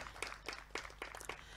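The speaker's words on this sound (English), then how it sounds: "I think we can give Albie another round of applause" A small group gives Albie another round of applause, a short burst of a few distinct, fairly quiet claps in an uneven rhythm lasting under two seconds.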